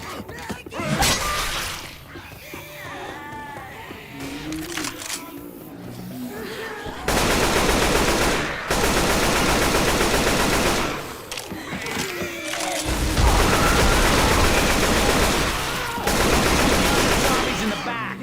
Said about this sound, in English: We have guns here! A machine gun.